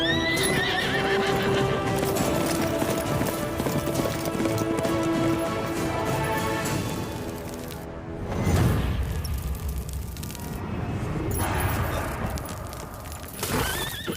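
A horse neighs loudly and close, its whinnies mixing with clattering hoof clip-clops, and the activity swells again toward the end.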